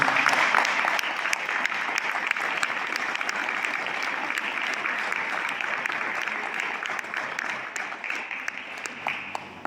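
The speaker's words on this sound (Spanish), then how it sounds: "Dale un fuerte aplauso al Señor." A church congregation applauds the Lord during a Spanish-language worship service, a steady, dense roar of many hands clapping for nearly ten seconds without a break, loud and close.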